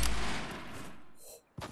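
A single loud gunshot from the video game Fortnite bursts out and decays over about a second, followed by a short thump near the end.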